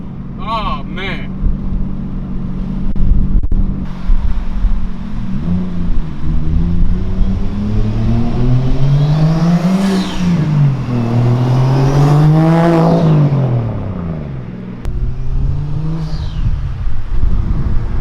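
Lexus IS300 with a swapped 1JZGTE turbo engine revving hard, deep rising and falling sweeps of engine pitch with turbo whoosh, loud and close, while people talk and exclaim over it.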